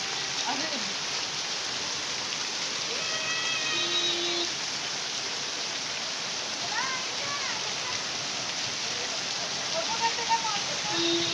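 Steady broadband rain wash with a few faint tonal chirps and brief background sounds mixed in, constant and moderately loud throughout.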